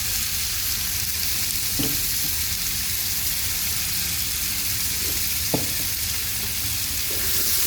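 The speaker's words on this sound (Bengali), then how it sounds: "লবণ দিব হলুদের গুঁড়া দিব মরিচের গুঁড়া দিব দিয়ে ভালো করে কষাবো" Potatoes with salt, turmeric and chili powder frying and being stirred for a potato curry, a steady close sizzle with a couple of sharp utensil scrapes against the pan, no talking.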